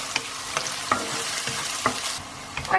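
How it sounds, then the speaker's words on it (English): Onions sizzle steadily in a hot pan for a chicken kofta curry, with a broad frying hiss broken by several sharp scrapes and clinks of stirring at irregular moments, close and moderately loud. "We're going to cook these onions till they turn translucent."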